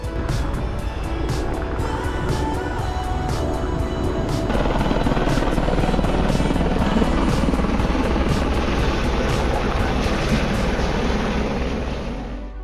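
A helicopter's rotor thumps steadily, growing louder as it passes overhead near the Haast Pass area on New Zealand's West Coast, then fading slightly as it continues on.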